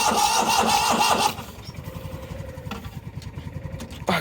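A neglected 1998 Yazoo YTKC22 three-wheel mower engine cranks loudly, then catches and settles into a rough, pulsing idle close by, with a brief surge at the end.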